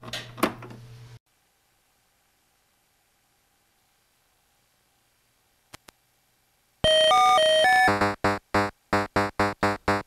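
Atari 2600 Pac-Man game audio: a brief noisy burst at the start, then after a long silence a loud, harsh electronic tone sequence shifting pitch, followed by a rapid run of repeating beeping pulses.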